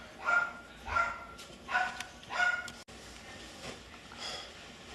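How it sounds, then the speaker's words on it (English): Several dog barks in the distance, a few sharp yaps spaced over the first few seconds, then quieter faint barking trailing off. "don't mind those dogs barking in the background"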